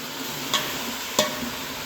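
A spoon stirring black chicken seasoned with pepper in a cooking pot (kaldero), with two light, brief clanks against the pot over a low, steady background hiss. No one talks.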